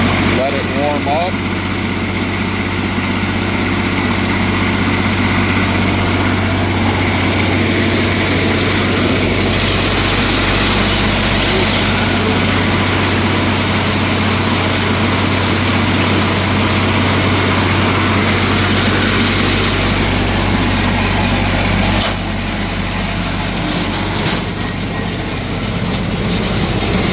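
A Crary Bearcat CH611DH 6-inch diesel wood chipper idles while warming up, its engine giving a loud, steady low rumble throughout with a faint shift near the end, and a person talks over it.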